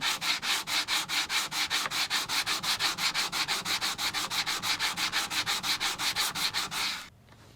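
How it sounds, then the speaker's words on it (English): An 8000 grit sharpening stone is flattened with fast, even back-and-forth rubbing strokes, close and loud, about five per second, stopping just before the end. "Let's flatten this 8000 grit stone."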